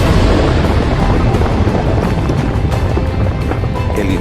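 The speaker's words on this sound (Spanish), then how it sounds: "la explosión nos golpeó con una onda expansiva brutal" A rocket-launcher projectile explosion sound effect is heard as a loud, continuous roaring rumble with crackling debris-like texture. It stays heavy and close throughout, with no voices.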